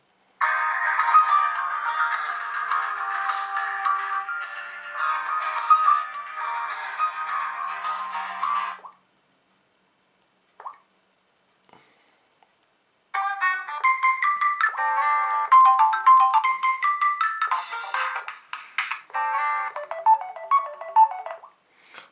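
A ringtone plays through the small, tinny speaker of a Samsung Note 4 copy phone: a sustained melodic tune, then silence, then a second brighter, choppier melody, close and fairly loud.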